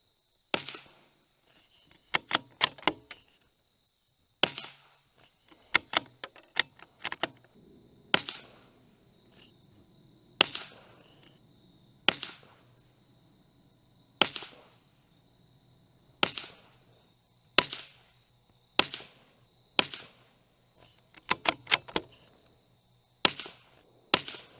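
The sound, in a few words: suppressed rifle shots, 22 LR standard velocity ammunition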